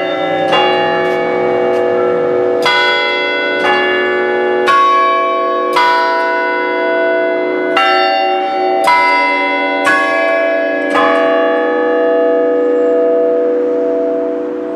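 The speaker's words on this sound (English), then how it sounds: "Oh, there's the chimes." Church bells in Salisbury, Connecticut chime loudly in a slow, uneven sequence of ringing strikes whose tones overlap and linger, with no voices present.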